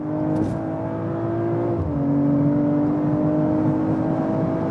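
A car engine drones under steady acceleration, its pitch climbing, dropping briefly at a gear change, then climbing again inside the cabin.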